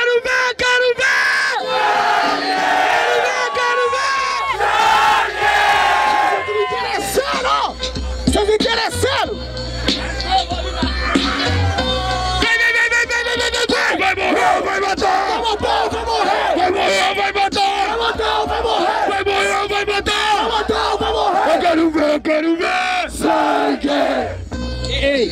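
Crowd at a Brazilian freestyle rap battle in Barueri, São Paulo, shouting, cheering and chanting loudly and continuously, with yells rising over a dense roar and a steady low beat underneath.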